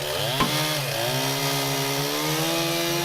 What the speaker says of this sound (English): we use chainsaws and knives.